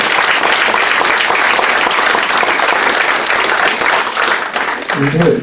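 A church congregation applauding during a worship service, sustained loud clapping throughout with a voice speaking near the end.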